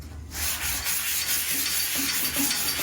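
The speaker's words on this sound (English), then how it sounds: "when you're sanding it, see this spot here?" Steady abrasive rubbing and scraping of sanding on a metal Vendo 44 Coke machine cabinet, continuous and close, with faint rhythmic strokes toward the end.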